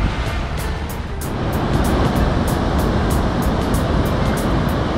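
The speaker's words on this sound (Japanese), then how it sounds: "さて波チェックしていきましょう。" Ocean waves breaking on the surf beach at Oarai, Japan, a loud, constant rushing roar of surf close by, with brief hissy bursts of spray recurring across the top.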